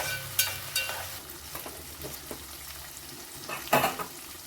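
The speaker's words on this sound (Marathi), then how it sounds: "लसूण आणि मिरचीचा ठेचा यात घातला आहे तो छान असा मस्त परतून घेऊया" Garlic and green chili paste sautéed in a pan for an eggplant bharit, with a soft steady sizzle broken by a few sharp spatula scrapes and clinks close by, no talking.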